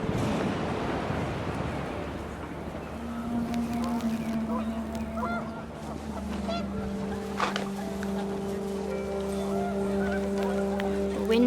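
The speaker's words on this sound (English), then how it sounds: "The wind picked up, and panicked geese appeared and quickly went." Panicked geese honking in the What Remains of Edith Finch video game, a flurry of bird calls over wind and lapping water, loud and continuous with sustained tonal game music beneath.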